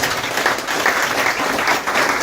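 Audience clapping at a live interactive session, a dense, steady wash of applause for the whole short stretch, with no voices over it.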